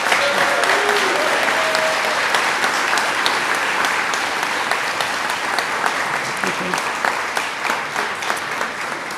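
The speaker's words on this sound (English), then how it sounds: "Let's give one more round of applause for all of our award winners." Audience at a university alumni awards celebration applauds its award winners in a sustained, dense round of clapping that holds steady throughout.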